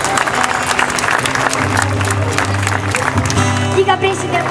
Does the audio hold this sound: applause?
yes